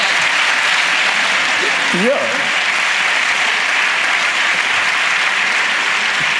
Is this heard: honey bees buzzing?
no